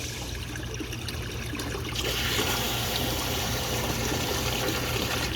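Water trickling and splashing steadily into a hydroponic flood and drain table, the flow growing louder and fuller partway through, with no voices.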